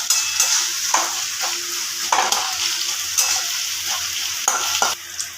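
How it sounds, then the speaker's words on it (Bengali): Ginger garlic paste fries in a pan for a chicken curry, a steady close sizzle broken by about five scraping stirs of a spoon against the pan, with no talking. "ভালো করে আদা রসুনটাকে ভালো করে কষে নিতে হবে"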